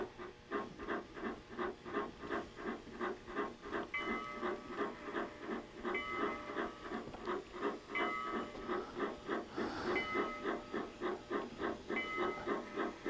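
Rhythmic chuffs of a model narrow-gauge steam locomotive's digital sound system puff in a steady, quick beat with a hissing undertone, sounding mechanical and close, with occasional brief whistle-like tones.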